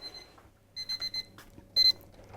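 Kitchen oven timer buzzer sounds for finished mince pies: a few short electronic beeps in quick bursts, then a louder double beep after a pause, fairly faint against a quiet room.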